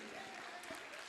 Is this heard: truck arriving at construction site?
no